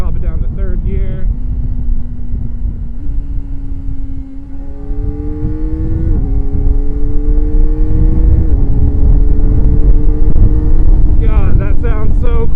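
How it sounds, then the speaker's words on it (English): A Kawasaki ZX-4RR inline four pulls hard in third gear at full throttle on a freeway in its full-power mode, with intake and ram-air roar rising in pitch through the run over steady wind buffeting, and a brief voice near the start and end. "That intake noise coming through the airbox, that ram air noise, and the engine sound and the exhaust note"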